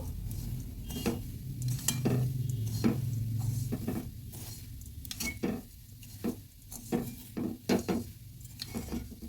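Semai vermicelli, fried and now mixed with milk powder, is stirred in a pan with a spoon, making irregular close scraping clinks and taps against the metal over a low frying hiss, with no talking.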